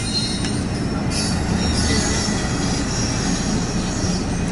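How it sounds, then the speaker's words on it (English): A freight train rolls past on a Norfolk Southern or Reading and Northern line, its wheels squealing steadily against the rails over a dense, continuous rumble, close and loud throughout. "I believe this is the next train that was coming behind that one."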